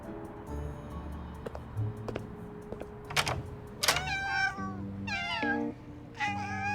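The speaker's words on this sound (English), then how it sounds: "the constant meowing creeped me out." Cats meowing inside a cat cafe in the game Love and Deepspace: several clear, rising and falling meows come close together in the second half, over a low steady hum with a few soft ticks and taps.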